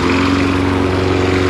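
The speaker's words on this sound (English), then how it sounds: "Stuck choke. The lawnmower choked." A petrol lawn mower engine, freed from a stuck choke, runs loud and steady at close range with a constant droning hum and no talk over it.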